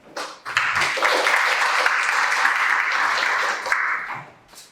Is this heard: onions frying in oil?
no